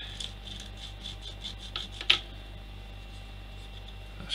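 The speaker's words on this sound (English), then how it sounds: "I'm going to sand it down a tad to get rid of the excess flesh" A plastic hatch part from a Trumpeter Titanic model kit being sanded, short quiet rasping strokes in a rhythmic series with a few sharper scrapes, close and faint in a quiet room.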